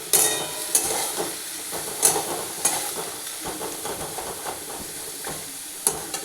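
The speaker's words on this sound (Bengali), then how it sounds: "এবারে পেঁয়াজটাকে লালচে করে ভাজবো।" Onions fry in hot oil until reddish-brown with a continuous soft sizzle, while a utensil stirs and scrapes the pan and occasional sharp clinks break through.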